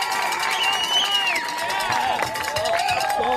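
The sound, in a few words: high school football crowd roaring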